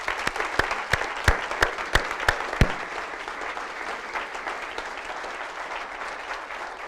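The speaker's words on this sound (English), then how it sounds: "Please give her a round of applause." Audience applause at a county State of the County address: a few sharp, distinct claps at first, then a fuller, steady round of clapping from the room that settles into an even patter.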